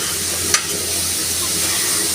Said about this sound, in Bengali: আর এই যে এখানে এখন আলু ভাজছি, আর সাথে এগুলো ভেজে নিলাম